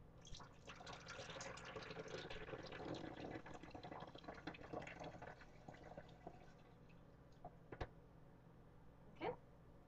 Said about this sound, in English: I'm just going to pour it into the back of the machine here